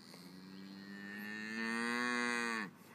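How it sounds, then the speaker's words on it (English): A single long, close moo from a cow in a field, rising in strength and holding steady for over two seconds before breaking off abruptly. "The cows like Warren. They've come to investigate"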